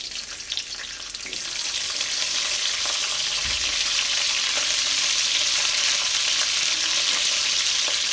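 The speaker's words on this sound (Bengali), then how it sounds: "একটু ফুলকপিগুলোকে একটু ভেজে নেব" Steady, dense sizzling of cauliflower frying in hot oil with cinnamon and cardamom, close and loud, continuous throughout with no voices.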